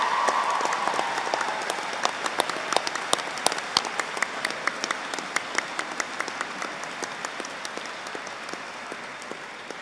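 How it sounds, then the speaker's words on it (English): A graduation ceremony audience at the University of Hertfordshire gives a round of applause for staff, with a full hall of clapping punctuated by sharp, close individual claps throughout. "I hope that you will show your appreciation for the work that they have done over the years to support you by another round of applause."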